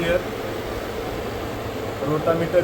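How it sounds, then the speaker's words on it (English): The refrigeration compressor and condenser fan of an ice plant run with a steady, even mechanical whir and low hum, loud and continuous throughout the short stretch. "here below you can see condenser fan is there, compressor is there"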